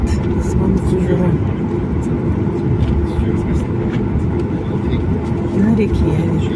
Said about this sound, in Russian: Самолет выезжает на разгоночную полосу, брать разбег